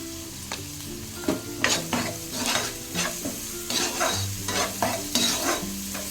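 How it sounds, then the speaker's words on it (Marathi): Onion fries with salt in a pan for kaju masala curry, a soft sizzle broken by repeated spatula scrapes and clacks against the pan in an uneven rhythm, fairly close, with no voices. "ह्याच्यात आपण थोडं मीठ टाकूया म्हणजे कांदा लगेच फ्राय होतो"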